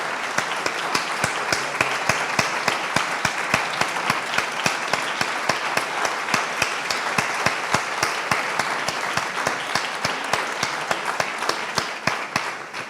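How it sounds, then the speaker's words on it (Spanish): A conference audience at Hispanidad Cartagena 2025 gives sustained applause: many hands clapping densely and steadily for over twelve seconds, full and even throughout with no voices over it. "quiero pedir un muy fuerte abrazo, un muy fuerte aplauso para José Luis"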